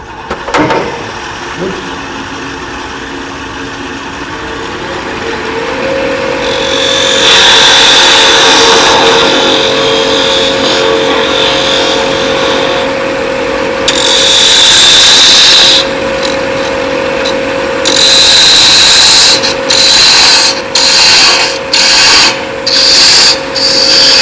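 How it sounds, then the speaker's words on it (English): A wood lathe spins a short handle blank at a woodturning guild demo while a skew chisel takes it down to size, giving a steady motor hum under bursts of loud cutting hiss that break into quick choppy strokes toward the end. "I'll take a skew and get it down to size fairly quickly."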